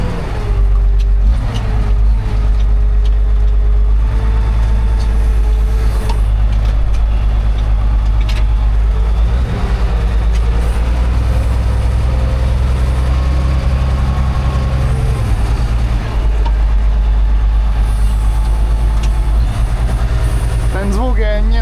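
Heavy engine chugging nearby without pause from a ZTS 16245 Super tractor ploughing, a loud low-pitched drone with shifting tones as it works, voices faint underneath.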